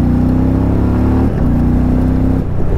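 A 2020 Indian Challenger Dark Horse motorcycle in sport mode revs loudly and close by, holding a strong engine note, dipping briefly, then revving again for a second held burst.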